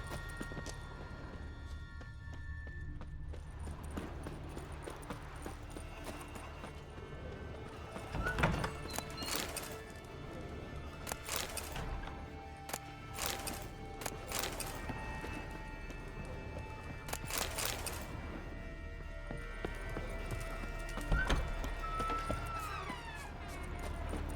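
Horse hooves clip-clop at a steady trot in The Witcher 3, carrying on without a break under a wash of in-game ambience and music, with a few louder, sharper hits along the way.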